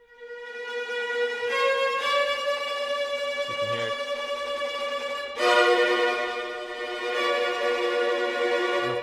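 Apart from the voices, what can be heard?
sampled orchestral violins playing tremolo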